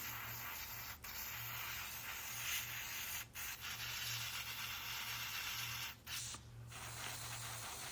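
An airbrush sprays a silver base coat onto a 1/48 scale Tamiya P-47D Thunderbolt model propeller, a faint steady hiss of air broken by a few brief pauses and clicks.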